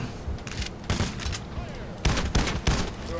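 Dense bursts of gunfire from the heist shooter Payday: The Heist, with rapid overlapping shots and booming impacts in a loud, continuous firefight.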